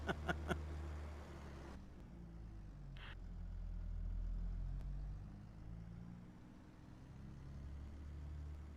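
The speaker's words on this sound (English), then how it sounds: "Sound changes nicely too when you're inside the tractor." A tractor engine in Farming Simulator 22 heard from inside the cab, a muffled low idling rumble that swells gently and settles, with a few soft clicks near the start and no talking.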